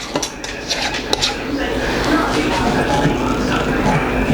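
Metal canning jar lids clink and rattle in a home kitchen while jars of roasted corn salsa are being filled. Bright taps come early, and a steady clatter of handling continues under someone talking.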